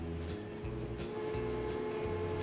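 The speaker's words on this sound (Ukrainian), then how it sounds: "Тим часом у нас прибуває сюди е, вантажний потяг." Freight train arriving in Transport Fever, a faint low rumble with repeating rhythmic wheel clatter and a steady hum.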